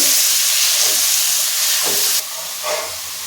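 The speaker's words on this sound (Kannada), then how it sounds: "ತುಪ್ಪದಲ್ಲಿ ಸ್ವಲ್ಪ ಫ್ರೈ ಮಾಡ್ಕೋಬೇಕು." Spinach and mint fry in hot ghee for palak pudina chicken ghee chops, a loud, close sizzling hiss that surges briefly, then drops to a quieter steady crackle.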